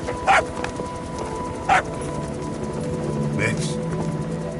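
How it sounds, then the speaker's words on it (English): Dog barking in Metal Gear Solid V, a young pup of uncertain breed: two short, sharp barks in the first two seconds, with a third fainter yelp later, over steady game ambience and background sound. "Here's the dog you brought back."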